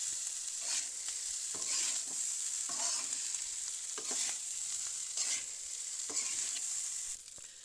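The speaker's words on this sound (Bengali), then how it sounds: "সব ভাতগুলো যাতে পেঁয়াজ এবং তেল মিশে যায়, যেমন ভাত মাখানোর মতো করে সুন্দর করে আমরা ভাতটাকে এপাশ ওপাশ করে মাখিয়ে নেব।" A spoon stirs cooked rice with onion and oil in a hot pan, giving repeated scraping strokes about once a second over a steady soft sizzle. It sounds close and quiet, with no voices.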